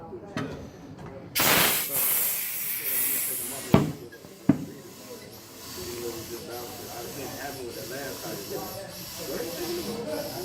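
Car tire at a tire shop filling through an air hose to 35 psi with the valve core out, a steady hiss following a few sharp clunks, with talk over it.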